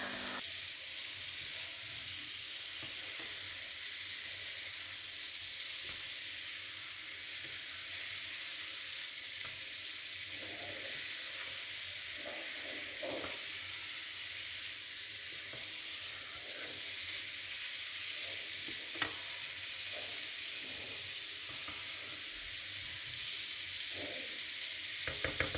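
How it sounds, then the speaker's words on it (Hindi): Chicken frying in oil with ground spices, red chili and garam masala in a kadhai, a steady close sizzle and crackle running evenly throughout with no voices. "चिकन को कढ़ाई में पैन में डाला है और इसमें सारे मसाले जो मैंने अभी आपको बताए हैं वो ऐड किए हैं"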